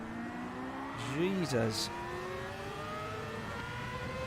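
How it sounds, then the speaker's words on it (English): A race car in Gran Turismo 7, in a Nations Cup race at Daytona, shifts and accelerates with rising then falling engine tones alongside other engine drone, while someone speaks briefly over it. "that car's got some acceleration"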